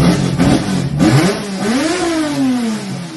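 A Hemi 245 car engine, run on a Mainline dyno, revs hard, climbing and falling in pitch through a couple of loud throttle blips, close and alone with no talk.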